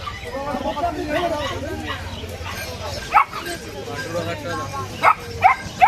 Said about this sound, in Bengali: golden lucky dog